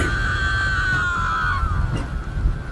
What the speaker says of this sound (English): Screaming to the top of her lungs.